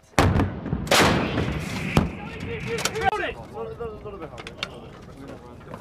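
Artillery guns firing during an air assault course training exercise, sharp loud blasts near the start and around two and three seconds, with shouted commands and talk throughout.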